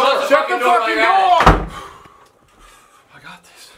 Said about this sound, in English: Close the fucking door. Shut the fucking door.